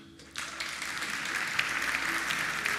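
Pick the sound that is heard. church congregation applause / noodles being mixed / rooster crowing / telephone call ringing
church congregation applause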